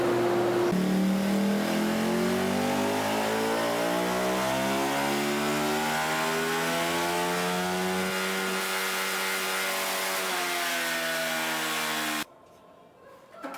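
A Ducati Panigale sport bike engine revs hard on a dyno, climbing steadily in pitch to a loud, sustained high-rev howl that holds for several seconds before cutting off abruptly near the end.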